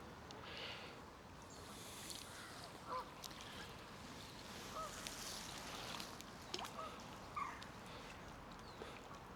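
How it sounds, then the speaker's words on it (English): Faint quacking of ducks comes in a few short bursts over a steady outdoor background hum, somewhat distant. "Look at the little ducks."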